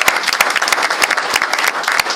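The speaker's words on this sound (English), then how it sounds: "Round of applause for our girls softball." A school audience gives a round of applause for the girls softball team at a district awards event, dense, loud clapping from many hands throughout.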